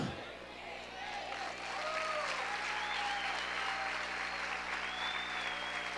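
A church congregation applauds during a sermon, clapping in a moderate, reverberant room sound with voices and cheers mixed in, rising a little after the first second.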